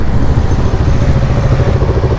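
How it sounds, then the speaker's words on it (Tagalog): Group of big bike motorcycles riding together, a loud, continuous engine rumble and roar throughout with no pauses or voices. "Gaganda ng motor nila."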